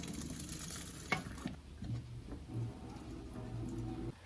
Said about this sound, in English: Stir the rice occasionally